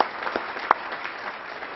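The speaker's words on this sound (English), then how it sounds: "Please join me in applauding them." Brief, steady audience applause at a 2009 venture capital roundtable event, a short wash of clapping with no voices over it.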